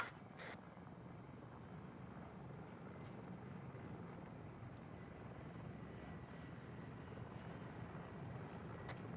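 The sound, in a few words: Mi-24 Hind helicopter approaching, video game Arma 3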